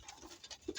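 A pet racing pigeon named Blue Nog gives a faint, brief, soft coo in a loft, quiet and low against light background noise.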